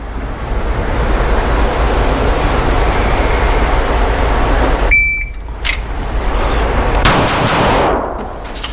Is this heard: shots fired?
yes